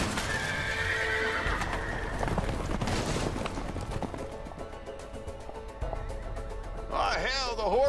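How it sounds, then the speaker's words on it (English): Horses escaping from a barn in the video game A Way Out gallop with loud, rapid clip-clopping hooves and neigh, with a sharp, close whinny rising near the end. "the horses are escaping"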